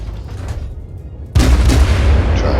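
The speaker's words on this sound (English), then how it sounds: "We'll fire some stuff off his general direction anyways." Naval guns firing in the World of Warships game, a single heavy booming salvo that bursts in loudly after a quieter stretch and rumbles on to the end.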